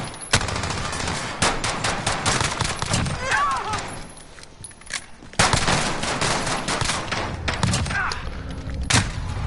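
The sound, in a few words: pistol shots in the video game Modern Warfare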